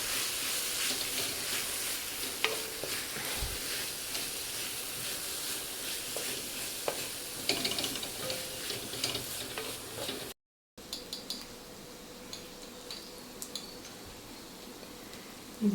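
Frozen curry leaves crackle and sizzle in hot oil in a frying pan while a spoon stirs and scrapes, a steady close hiss with scattered pops, briefly cutting out midway.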